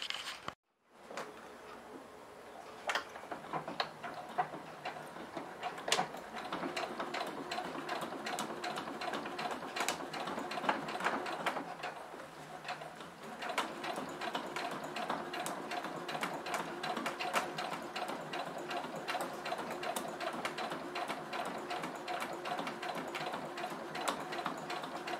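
A sewing machine topstitches a straight stitch 5 mm from the fabric edge at a lengthened 3.5 stitch, with a steady, rapid mechanical ticking whir running close by and uninterrupted after a brief start, with no talking.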